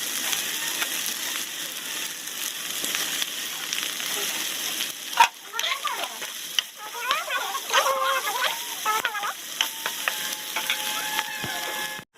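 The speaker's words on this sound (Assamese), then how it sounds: "পনীৰখিনি মই ইয়াতে এড কৰি দিম, মানে ভাজি ল'ম ভালকৈ" Paneer fries in butter in a pan with a soft, continuous sizzle, while hens cluck repeatedly nearby in the second half.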